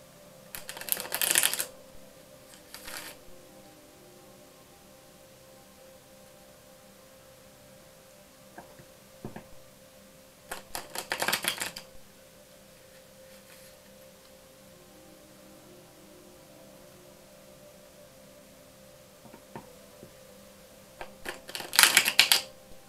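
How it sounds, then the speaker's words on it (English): Universe Oracle cards shuffled and pulled from the deck in three brief bursts of papery riffling spread across a quiet stretch, each burst short and close, with near silence between. "now I'm going to pull from the Universe Oracle cards"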